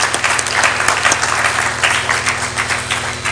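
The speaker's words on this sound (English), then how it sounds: "let's give them also a round of applause" Applause fills a Blantyre Baptist Church hall during a teens-versus-parents debate: continuous dense clapping from the audience at steady volume, over a low electrical hum.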